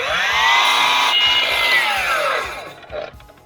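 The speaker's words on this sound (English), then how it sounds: "I'm going to cut a bevel on this because it meets the other timber at an angle." Power saw whining as it cuts a bevel through a piece of stair timber, a sustained loud rising-and-falling tone that winds down near the end, with no speech.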